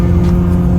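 Steady low engine drone of a BMW E30 out on a test drive, a constant cabin hum with no change in pitch over the brief moment.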